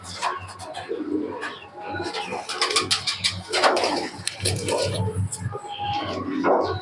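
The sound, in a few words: Giribaz pigeons cooing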